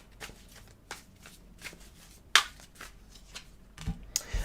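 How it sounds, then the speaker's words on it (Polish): Tarot cards are shuffled and dealt onto a surface in soft, separate flicks and slaps. One card snaps down sharply. The sounds are close and quiet, with pauses between them. "może rozłożę najpierw wszystkie karty, żebym tutaj się nie poplątał"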